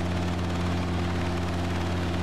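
A Robinson helicopter in flight in the Robinson Beta simulator, a loud, steady, droning rotor and engine hum holding evenly throughout, close and constant with no talking.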